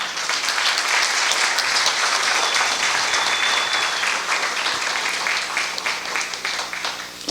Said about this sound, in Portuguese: E quero que vocês batam as palmas para elas.